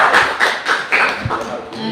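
Applause closes an online school presentation, a handful of soft, muffled claps coming through in an uneven rhythm over room noise, with the sound thin and compressed as if carried through a call.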